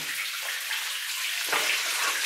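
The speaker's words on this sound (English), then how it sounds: "a bunch of water running out of those drill holes there" Water pours and splashes steadily from drill holes in the wall of an old Soviet mine haulage tunnel, a continuous close hiss of flowing water with a brief stronger splash midway.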